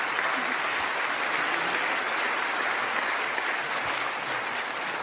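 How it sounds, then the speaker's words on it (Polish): Steady, full applause from an audience at a Polish sports awards gala honouring world champions, an even wash of clapping that holds without pause. "Jeszcze raz brawa dla naszych mistrzów świata."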